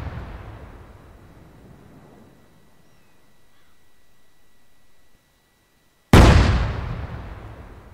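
Artillery vehicle firing in the WWII game IFA3: the fading rumble of one shot trails off into near silence, then a single sudden, loud blast erupts and rolls away in a long echoing decay.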